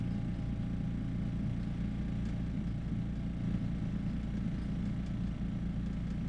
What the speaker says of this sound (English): plug in the air compressor into the wall outlet. Allow the motor to run